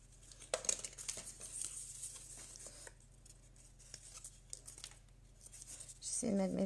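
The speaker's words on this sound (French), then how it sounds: "j'enlève le scotch" Adhesive tape is peeled off while making a black-and-white single-flower vase, with crackly tearing and crinkling bursts close by, then a louder rustle at the end over a low steady hum.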